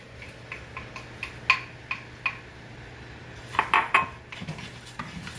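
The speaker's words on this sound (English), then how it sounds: "All right, we're gonna add our rice to it." Rice goes into a pot for sautéing, heard as a series of sharp metallic clinks and taps of a utensil against the pot, scattered irregularly over a quiet background, with a denser cluster near the end.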